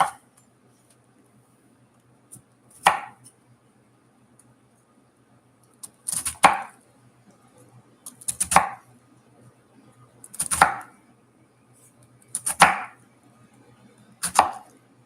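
A knife chops vegetables for veggie summer rolls on a cutting board, sharp isolated knocks arriving every couple of seconds with short rustles around them, close and clear with no talking.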